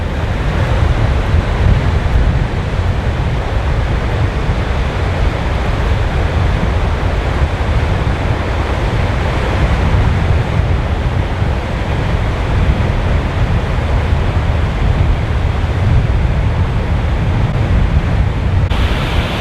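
Steady, loud rushing of a Lake District river roaring without pause as it tumbles over waterfalls, with no voices.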